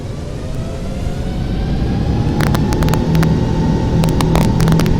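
Airbus A380 engines at full power on the takeoff roll in a flight simulator, a loud, rising broadband roar with a deep rumble, steady and close, with brief clicks near the end.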